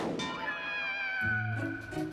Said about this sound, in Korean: 그 정체는 설마 고양이?